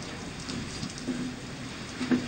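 Rain falling at Bakkhali during Cyclone Remal, a soft, steady hiss of rainfall with faint low rumbles, heard at a distance and fairly quiet throughout.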